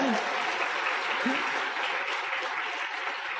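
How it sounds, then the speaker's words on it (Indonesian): An audience at a business motivation seminar breaks into steady applause, a dense even wash of clapping that holds throughout, with faint voices mixed in underneath. "Tepuk tangan buat Anda semua ya."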